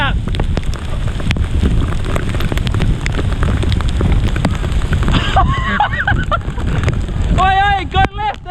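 Heavy hail pelts down during a storm on a group bike ride, a loud, dense, continuous roar of impacts with people shouting over it toward the end.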